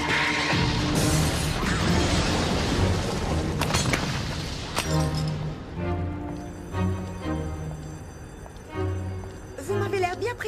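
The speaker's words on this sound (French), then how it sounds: "il y a eu une explosion" Heavy crashes and booming impacts of an explosion in the animated Tekken film, loud at first and thinning into scattered metallic clangs, with voices talking over parts of it.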